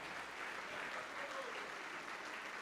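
A church congregation claps together during a sermon, a soft, even patter of many hands heard faint and distant throughout the short stretch.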